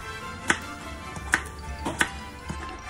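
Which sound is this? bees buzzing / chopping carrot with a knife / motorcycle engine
chopping carrot with a knife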